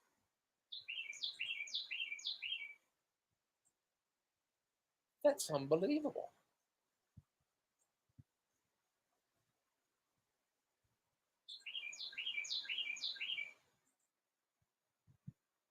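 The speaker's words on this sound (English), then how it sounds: "That is a loud bird." Loud, ringing bird calls in two bursts of rapid repeated notes, separated by a pause, with a person speaking briefly in between.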